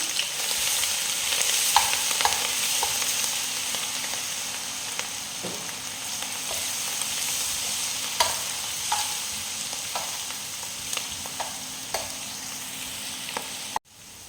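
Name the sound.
sautéing ginger and garlic for beef curry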